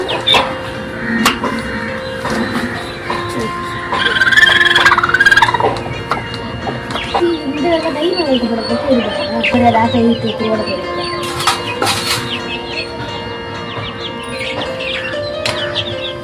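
Chickens cluck and chatter nearby among other birds, with calls overlapping over a steady background hum, on a farm.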